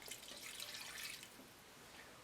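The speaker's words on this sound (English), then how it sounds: "I'm gonna add a cup of water." Water poured from a cup into a cooking pot for a homemade Taiwanese beef noodle soup broth, a steady, close splashing pour running about two seconds, then trailing off quietly.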